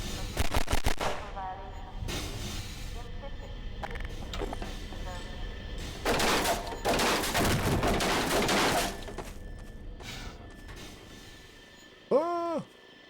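Gunfire in Half-Life 2, with a rapid burst of shots at the start followed by longer stretches of sustained firing and mechanical noise, a short tonal effect near the end, moderately loud and close.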